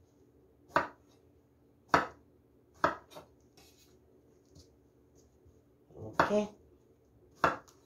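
Knife cutting eggplant into finger-shaped strips on a board in a home kitchen, with about six sharp, separate chops spaced a second or so apart. A voice speaks briefly and quietly between them.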